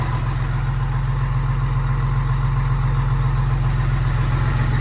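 A steady, low industrial generator engine rumble idles continuously, loud and close, with no change in pitch or rhythm throughout.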